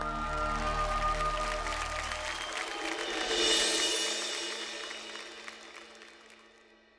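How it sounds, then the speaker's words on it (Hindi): Audience clapping and mild cheering on a televised drama talent show, rising over a fading music bed, peaking briefly, then tapering off to quiet. "जोरदार तालियां हो जाए।"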